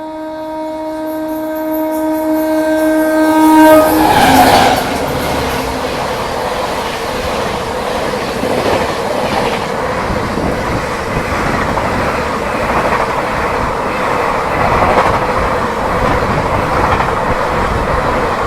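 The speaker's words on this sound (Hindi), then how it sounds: "ये आ रही है 12314 सियालदाह राजधानी एक्सप्रेस।" The 12314 Sealdah Rajdhani Express passes close by with a loud horn blast at the start, followed by a sustained roar and rhythmic clatter of coaches on the rails.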